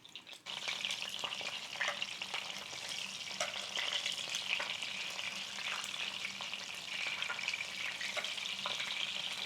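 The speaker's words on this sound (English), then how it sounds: "You hear that sizzle?" Continuous loud sizzling of cornstarch-coated shrimp shallow frying in hot oil, close up, with occasional stirring scrapes and no voices.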